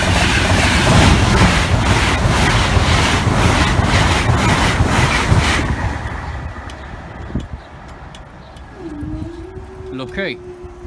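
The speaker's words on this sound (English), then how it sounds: "I think train 1 shortly coming from this way with train 2 coming from behind." A train thunders past the Barnby Road level crossing, loud and close with rhythmic wheel clatter and wind buffeting, then fades away, leaving quieter ambience and a rising warning tone near the end.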